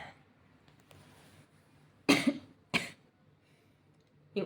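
Three sharp, forceful coughs close to the microphone, spaced apart, with quiet room noise in between.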